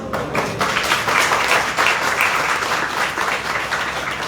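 Sustained audience applause fills a devotional lecture hall at an ISKCON temple in Chippiwara, a dense, steady wash of many hands clapping at once for over four seconds with no speech over it.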